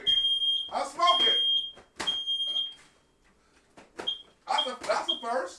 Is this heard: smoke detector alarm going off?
yes